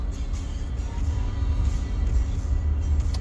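A car driving in one-lane highway traffic behind a giant semi truck, a steady low road rumble and engine drone heard from inside the cabin.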